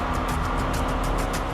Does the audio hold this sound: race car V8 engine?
yes